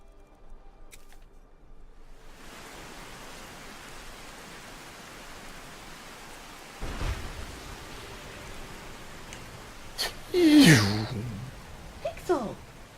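Steady rain hisses as a rainstorm in Skyrim sets in, a soft continuous wash with a dull rumble partway through and a person talking over it near the end.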